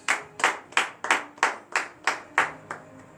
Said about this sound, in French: Donnez de vive acclamation à cette parole.